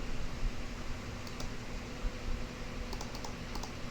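Quick light keystrokes as a number is typed on a computer keyboard, a few soft clicks clustered late over a steady fan-like hiss.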